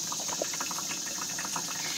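Clear filtered water pours and trickles from one container into a homemade water filter container, a steady close liquid splash with small bubbling, without talk.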